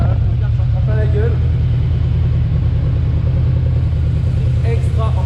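A Yamaha VMAX motorcycle engine runs steadily, a deep, loud low rumble close by, with a voice talking intermittently over it.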